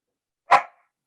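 A dog gives one sharp, loud bark, close by and isolated in otherwise silent surroundings.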